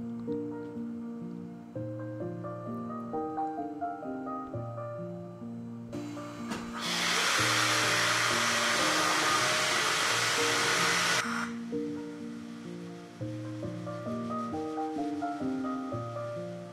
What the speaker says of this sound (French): je vais passer l'aspirateur partout dans la salle de bain ainsi que dans ma chambre